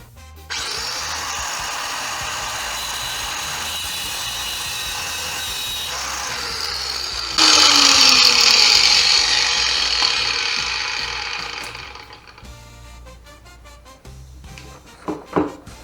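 A power tool cuts through a rusted-solid toilet nut and bolt at a porcelain toilet with a steady high whine, close and loud, and the cut grows harsher partway through. It then winds down and stops, followed by a few light clinks.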